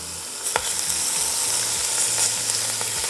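Two onions sizzling in a braising pot over browned pork fond, a steady close crackle and hiss with a few stirring clicks and scrapes.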